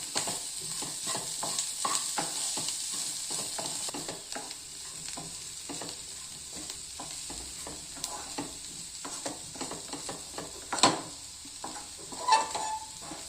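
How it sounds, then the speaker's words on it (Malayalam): Chili powder stirred into food frying in a pan, with a steady sizzle under repeated scraping and stirring strokes and a couple of sharper clinks of utensil against the pan near the end. "ഇനി മുളക് പൊടി ഇട്ട് ഒന്ന് ചൂടായി ഇനി മിക്സ് ചെയ്യാം."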